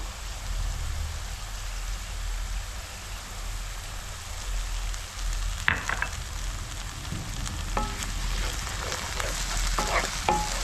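Ginger garlic paste sizzles in a pan, a steady moderate frying hiss with a few sharp clinks and scrapes of stirring toward the end, no voices.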